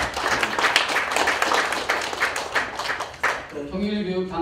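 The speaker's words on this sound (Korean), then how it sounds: "큰 박수 부탁드립니다." Audience applause greets an introduced official at a unification policy briefing, a dense steady clatter of clapping for about three seconds that breaks off as a voice comes in at the end.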